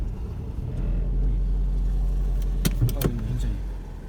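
A car engine rumbles low and steady from inside the cabin as the clutch is eased out and the car begins to move, with a few small clicks and knocks toward the end.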